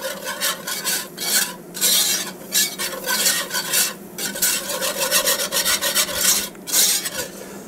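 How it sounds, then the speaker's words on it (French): Butter and flour being stirred into a roux in a pan, with rhythmic, close rasping strokes of a utensil scraping the bottom over a soft sizzle. "Et maintenant, on fait un petit roux."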